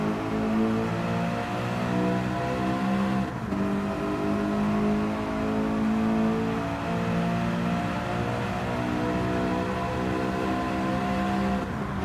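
A 2007 BMW M3 Coupé V8 engine in Gran Turismo 7 roars with a sustained, droning rev toward 8,400 RPM, its tone holding steady and loud for the whole stretch.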